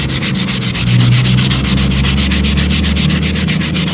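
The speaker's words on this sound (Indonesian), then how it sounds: "Ini kalau mau pakai amplas yang lebih kasar lagi nih, ini 240 ya." Wooden bird cage filler being sanded by hand with 240-grit sandpaper, a loud, close, continuous rhythmic rasp of quick back-and-forth strokes, with no voices.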